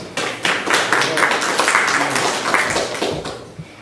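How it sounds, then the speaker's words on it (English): Participants at a Bhakti Vriksha seminar gathering at ISKCON Boston clap for themselves after a kirtan, a dense burst of applause filling the room for a few seconds with some voices mixed in. "Let's give ourselves a big round of applause."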